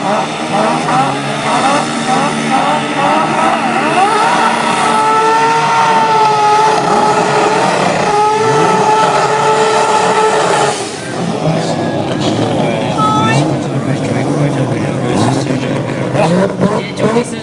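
A drag race car roars through a burnout at the Winternats drag meet at Willowbank, giving a loud sustained engine howl with shifting pitch that fills the scene, while a commentator talks over it.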